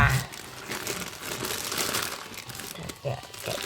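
Plastic packaging crinkles and crunches continuously as it is pulled and worked open by hand, close and fairly loud, with uneven bursts of crackling throughout.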